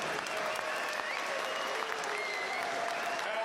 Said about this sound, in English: Ladies and gentlemen, if we can get a nice round of applause for both of these warriors